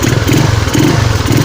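A Honda Scoopy motorcycle engine idling and revving in short pulses, a close, loud, throbbing putter with rhythmic surges about every half second.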